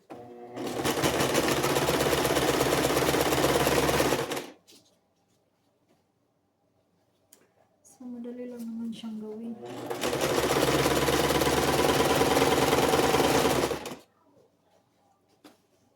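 A home sewing machine stitching in two long, loud, even runs separated by a quiet pause, with a brief voice speaking in the gap.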